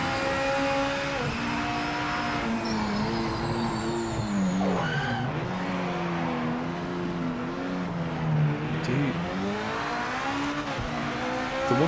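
Race car lapping Monza in the Project Motor Racing sim, its engine droning steadily throughout with pitch rising and falling through shifts, plus tire skids and squeal, with no talking.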